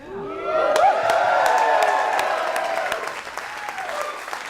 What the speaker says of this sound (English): let me hear a cheer at the top of your lungs.